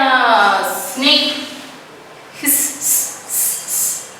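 Snake hissing imitated by a human voice, giving a series of four or so breathy hisses in a steady rhythm after a short stretch of speech.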